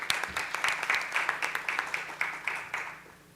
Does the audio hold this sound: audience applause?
yes